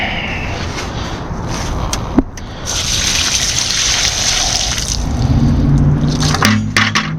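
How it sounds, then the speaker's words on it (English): Leftover water sloshes and pours out of emptied summer buckets for the animals, a close, continuous gush that swells near the end. "So, we gotta get the water out of these."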